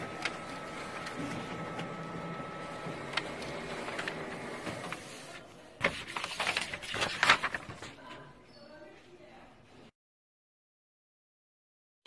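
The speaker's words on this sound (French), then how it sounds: "Le bon de préparation arrive sur l'imprimante." An office printer outputs a picking slip for a warehouse order, whirring and clicking for several seconds up close, with some louder mechanical clatter near the end before it falls silent.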